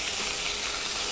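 Ginger garlic paste frying in a hot pan for an egg masala, a loud, steady, close sizzle with no talking.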